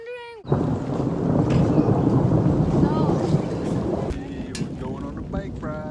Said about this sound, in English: It is thundering.